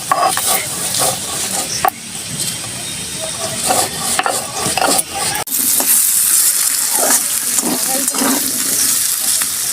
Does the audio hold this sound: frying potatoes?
yes